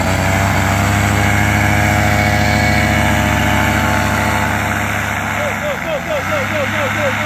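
A model aircraft engine, likely a small glow or gas engine, runs steadily at half throttle during a pre-launch check, loud and close with a constant drone and people talking over it.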